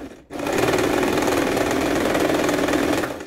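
A sewing machine runs steadily, stitching a zigzag seam to join two fabric ends for a small doll's witch hat, with a fast even buzz that is close, loud and uninterrupted for about three seconds.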